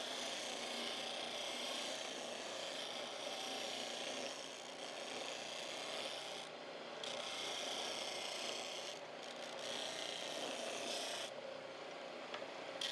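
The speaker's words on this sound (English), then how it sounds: "over on my homemade disc sander, I can quickly round off the corners" Homemade disc sander rounding off the corners of a small wooden napkin holder, giving a continuous close abrasive grinding hum with a few brief dips as the wood is lifted away, and no voices.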